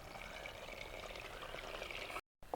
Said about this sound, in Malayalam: ഇനി ഇതിലേക്ക് 1/2 കിലോ ശർക്കര ഉരുക്കിയത് ഒഴിക്കുന്നുണ്ട്